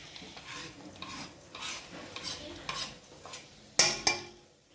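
Chopped onion being stirred into a potato mixture in a pan, with soft scraping and scuffing strokes at close range and a couple of sharper clinks of the utensil against the pan near the end.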